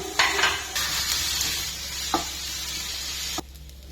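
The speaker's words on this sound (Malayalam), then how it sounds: "ഉള്ളി കുറച്ച് ടൈം എടുത്തു ഇത് നല്ല ഒരു ബ്രൗൺ കളറിലേക്ക് വരുന്നവരെ വഴറ്റി" Onions with ginger, garlic and curry leaves sizzle in a pan while being stirred, a steady frying hiss broken by a few utensil scrapes and knocks before it cuts off abruptly.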